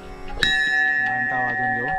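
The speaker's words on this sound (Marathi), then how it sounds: "घंटा वाजवून घेऊ." A temple bell is struck once, loud and close, then rings on with a long sustained tone over a murmur of people in the background.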